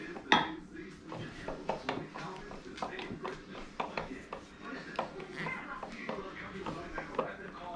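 A hand-crank meat grinder works a couple of pieces of bread through its mechanism, giving a steady run of close metallic clicks, scrapes and clunks with irregular sharp knocks.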